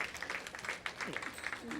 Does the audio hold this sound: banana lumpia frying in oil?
no